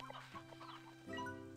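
Chickens in the Slime Rancher 2 video game cluck in short, close, fairly soft bursts, one breaking off into a longer, steadier call near the end, with no talking.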